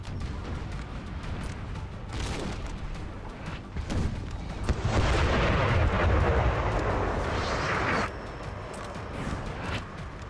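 Cannon artillery fire in a Napoleon Total War battle: a steady barrage of deep booms and blasts, with a dense, roaring stretch of overlapping fire in the middle, continuous and loud throughout.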